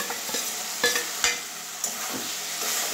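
Prawns go into a tomato masala frying in a pan, giving a lively sizzle and crackle with several sharp scraping knocks of a spoon against the metal, loud and close, with no voices.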